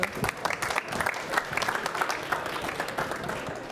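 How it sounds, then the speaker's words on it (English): An audience applauds steadily, a dense patter of many hands clapping at moderate distance throughout. "Please give them a round of applause."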